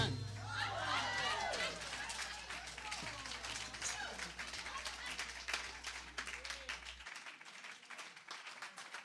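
Applause rises from a Sunday celebration congregation after a live song, a dense sustained clapping that holds throughout, with some chatter and voices mixed in.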